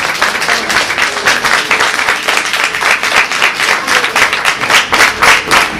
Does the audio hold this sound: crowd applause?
yes